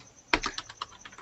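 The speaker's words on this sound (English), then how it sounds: "I hear you typing" A computer keyboard is typed on during a remote video call, giving a quick run of light, crisp key clicks that stays close but fairly quiet against a faint background, with no talking.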